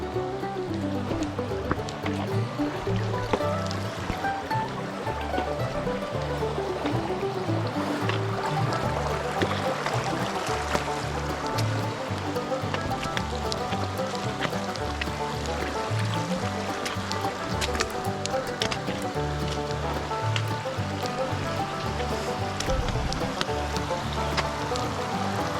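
A stream flows during a backpacking water crossing in the Porcupine Mountains, a steady close rushing and gurgling of water over rocks that continues evenly throughout with no talk.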